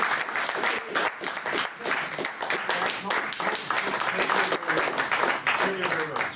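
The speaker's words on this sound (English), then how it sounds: "can you please clap your hands if you are happy to see me tonight?" A live audience claps at an evening stage show, producing dense, continuous applause with pulsing swells that stays loud throughout, while a voice comes through faintly beneath it.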